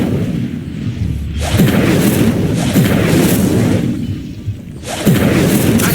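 Incendio fire spell cast in Hogwarts Legacy, loud whooshing bursts of flame, a long roaring blast followed by a second flare that starts abruptly near the end.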